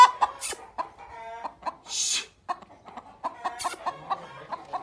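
Aseel hen, a home-bred bird, clucks in a run of short close calls with irregular rhythm, broken by a couple of brief sharper squawks, with no talking.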